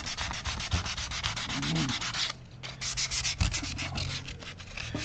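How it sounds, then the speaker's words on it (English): Sandpaper rubs back and forth along the edge of a Les Paul-style guitar kit body, a steady close scratchy rasp with brief pauses, no talking. "I'm using the sandpaper to remove some of this dark edge"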